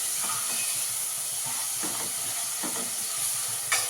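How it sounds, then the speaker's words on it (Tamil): Onions sauté in a pan for a tamarind kuzhambu made with baby jackfruit, giving off a steady, soft hiss and sizzle with faint stirring clatters and no talking. "நல்லா செவக்க வதங்கணும்."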